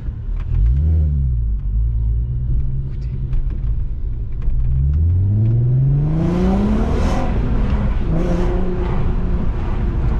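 A Volkswagen Golf 4 R32 engine rumbles steadily, then the throttle opens and it accelerates with a rising, strong growl, loud and near from inside the car.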